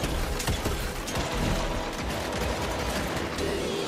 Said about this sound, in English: I'm just gonna keep shooting him, man.